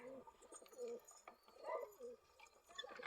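Pigeons coo in soft, repeated low bursts close by, with a few brief chirps and light rustling between the calls.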